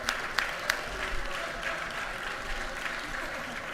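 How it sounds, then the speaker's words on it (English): Round of applause in a legislative chamber during a session day, moderate and somewhat distant, with a few sharper claps standing out near the start before the clapping settles into an even patter. "Let's give her a round of applause."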